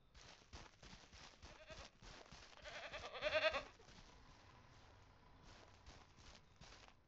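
Goats bleating in the farming video game Ranch Simulator, a few overlapping calls from a nearby herd with a louder burst partway through, over soft footsteps and ambient farm noise.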